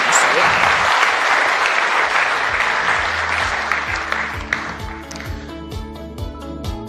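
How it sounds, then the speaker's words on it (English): Loud, sustained applause from a summit audience, rolling evenly for several seconds before thinning as music with a steady beat comes up underneath. "A huge round of applause,"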